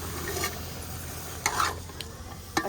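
Carrots and peas are stirred in a cooking pan, a spoon scraping in a few distinct strokes over a soft, steady sizzle, close and fairly quiet with no voices.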